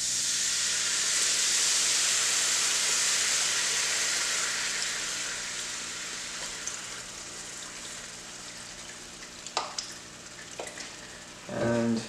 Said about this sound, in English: you're going to now add the beef stock